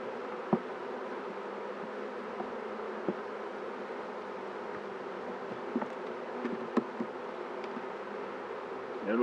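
Honey bees buzz steadily during a full beehive inspection, a dense, continuous hum of many insects close by, broken by a few faint clicks and knocks from handling the hive, with no talking.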